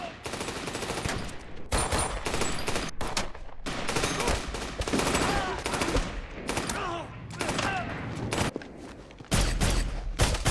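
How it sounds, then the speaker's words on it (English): Heavy gunfire in rapid bursts, dense volleys of shots crackling on and off amid chaotic noise, with voices shouting in between. "caught in a hail of gunfire"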